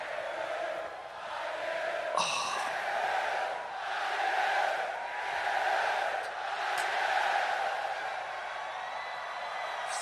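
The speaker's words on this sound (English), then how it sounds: "I love hearing the crowd sing music." A huge Glastonbury Festival crowd singing along to a song, a massed chorus of voices swelling and falling in waves, distant and echoing, with a brief shout near the start.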